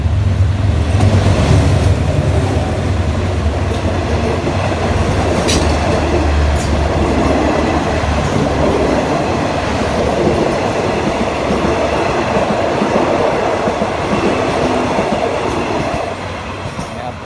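Hitachi 4515 locomotive hauling express train 84 from Trang to Bangkok rolls past at close range in the morning near a bridge at Ban Pong, Ratchaburi: loud steady rumble and rail clatter throughout, easing slightly at the end.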